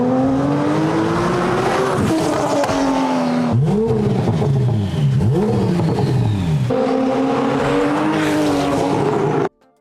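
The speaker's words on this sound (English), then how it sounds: "The turbos are not choking out the engine sound." A twin-turbo Porsche 911 GT3 RS engine revs hard and loud up close, climbing and falling through repeated gear changes with a sharp, sustained mechanical howl that stops abruptly at the end.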